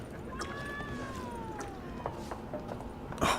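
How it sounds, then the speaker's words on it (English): A cat meows in The Witcher 3 video game, one long drawn-out meow with a falling pitch, heard over steady ambient game background noise, with a brief clatter at the end. "Oh, they got a cat."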